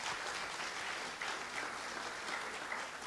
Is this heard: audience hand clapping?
yes